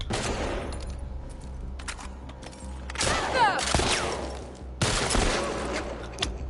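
Gunshots from the video game The Last of Us Part 2, a few loud sharp bursts spaced apart, each with a ringing tail, over low background game ambience.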